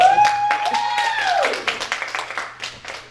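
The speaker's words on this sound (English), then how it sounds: "Now, clap your hand for them." A church congregation claps hands in scattered, quickening bursts while a preacher's drawn-out sung or shouted voice trails off at the start, the claps growing sharper and more distinct toward the end.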